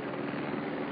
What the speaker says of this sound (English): And that is a helicopter.